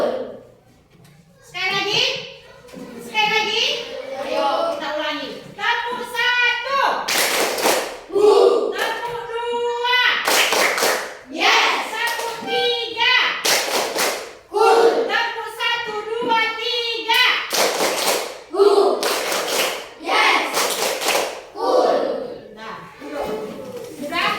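Schoolchildren in a classroom clap in rhythm on cue, several short bursts of group claps spaced through steady talk from a teacher and children.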